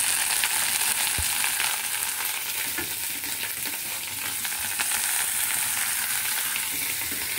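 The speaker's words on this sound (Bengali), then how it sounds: "হালকা হালকা ভেজে নিচ্ছি কিন্তু কাঁচা লঙ্কাটা, হ্যাঁ, আর রসুনটাও ভেজে নিচ্ছি অল্প অল্প করে" Green chilli, garlic and bottle gourd leaves fry in a pan, giving a steady, close, bright sizzle that holds evenly throughout with light crackle and occasional stirring scrapes, no voices.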